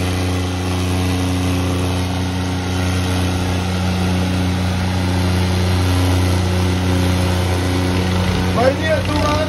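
A tractor engine idles and runs steadily nearby, a continuous low droning hum with a faint rattle that holds at an even level throughout, with no clear speech over it.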